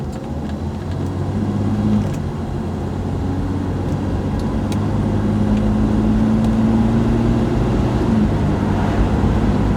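Grandma's Plymouth Valiant drives in traffic, its engine giving a constant low hum from inside the car with some road rumble; the pitch rises slightly partway through as it pulls along.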